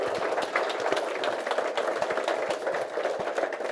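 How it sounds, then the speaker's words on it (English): An audience claps in a church or men's gathering, giving steady, moderately distant applause that holds for a few seconds. "I want you to give Dan and Tim a round of applause."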